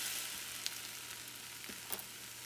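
A crepe sizzles faintly in a hot pan right after being flipped, a steady soft frying hiss with a couple of small crackles.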